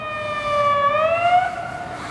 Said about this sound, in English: Holy smokes, it's the ambulance unit!